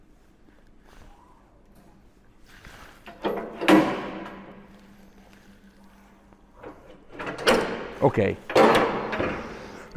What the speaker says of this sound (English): By closing the door,